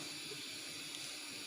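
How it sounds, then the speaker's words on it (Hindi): Spice masala for mutton trotters sizzling and frying in a pan, a steady soft hiss without a break. "ये देखिए हमारे पायों का मसाला भुन रहा है"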